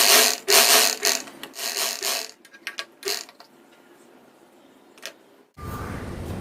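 A sewing machine stitches pieces of an old sweater into a mixer cover, running in close rapid mechanical bursts that pause, stop and start, with a few isolated clicks before a switch to different background sound.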